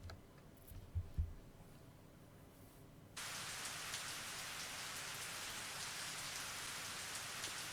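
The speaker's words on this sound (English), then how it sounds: "The only sounds I heard came from the falling rain striking the trees and muddy ground." Quiet ambience with a couple of low thumps gives way abruptly to steady, dense rainfall hissing evenly on trees and muddy ground for the rest of the clip, in a video game.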